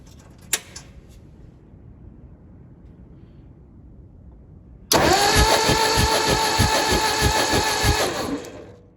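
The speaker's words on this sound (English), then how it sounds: "I'm just gonna turn the engine over again and just make sure that those are open and closing like they should be." A Ford 961 Powermaster tractor engine cranks over for about four seconds after a quiet stretch, giving a loud, steady starter whir broken by evenly spaced compression pulses. It does not catch, and one sharp click comes earlier.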